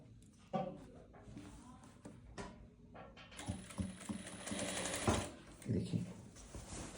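A sewing machine stitches a silk sharara, coming in short mechanical bursts and then a longer steady run of rapid stitching, close and fairly quiet, with someone speaking between and over the stitching.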